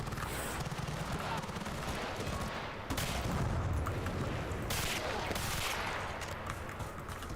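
Rapid automatic gunfire in Battlefield: Bad Company 2, a steady rattling stream of shots with occasional louder bursts and distant explosions, constant at moderate volume with faint talk underneath.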